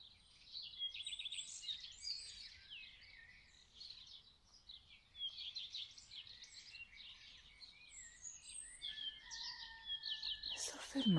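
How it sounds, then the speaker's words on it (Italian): Small birds chirp and twitter in a quiet natural setting, a string of light, high calls scattered through the air at a faint, gentle level. "gli uccellini"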